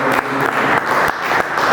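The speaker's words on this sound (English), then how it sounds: "big round of applause for Chirodeep." A brief, loud round of audience applause for Chirodeep at a documentary photography talk, with many people clapping together in a dense burst.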